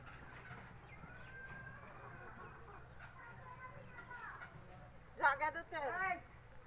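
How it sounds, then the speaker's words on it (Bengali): Chickens chase one another in a quiet rural yard, breaking into a close burst of loud clucking and squawking toward the end after a calm stretch of faint background murmur. "মুরগিরা সব তাড়া করছে, দেখেন।"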